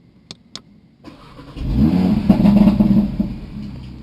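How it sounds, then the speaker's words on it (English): Two quick clicks, then a 2018 Audi RS3 engine cranks and catches, revving up to a loud close rumble before settling back down. "I might have to turn the car on to do this."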